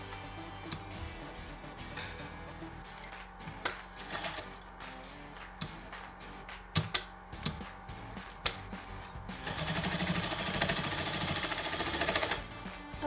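A sewing machine stitches fabric for a neck design with fabric buttons, giving off irregular clicks and short rattles, then a sustained steady mechanical whir from the needle running near the end.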